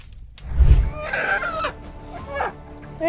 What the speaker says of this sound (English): A viral clip showed a chicken running around, but there was one big thing missing: its head.